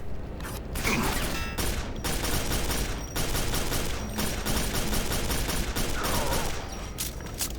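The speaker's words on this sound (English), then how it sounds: "it's probably a shotgun" Shotgun blasts and weapon mechanisms in the PC shooter Quake 4 ring out in a loud, dense game mix, with several sharp reports and mechanical clanks over a constant noisy bed.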